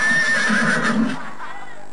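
A horse whinnies loudly and close for about a second, the shrill cry wavering before it breaks off into quieter background noise.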